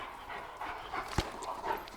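A police K9 dog wearing a muzzle whimpers and pants quietly, with a short, sharper yelp partway through, and no voices.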